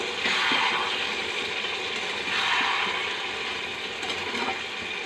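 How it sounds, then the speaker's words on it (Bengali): Mourala fish for a dry chochchori are stirred in a pan, producing a steady, dense sizzling and scraping noise throughout, close and continuous with no voices. "এই যে মাছগুলোকে এভাবে নেড়ে দেবো।"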